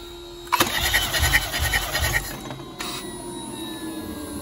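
A BMW B48 engine cranks with its starter during a compression test, giving a short rhythmic churning burst of about two seconds followed by a brief click and quiet hum.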